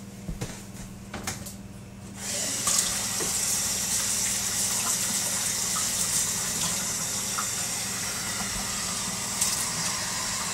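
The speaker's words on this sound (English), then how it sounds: "let me wash my hands." A kitchen tap runs steadily while hands are washed after wrapping potatoes, the water rushing loud and continuous after a few soft knocks at the start.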